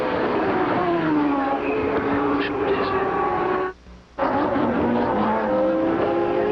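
Onboard a 1989 Formula 1 car driven by Ayrton Senna climbing the hill at Suzuka, its engine roaring loud and steady with rising pitch sweeps, briefly cut out by a short dropout before returning.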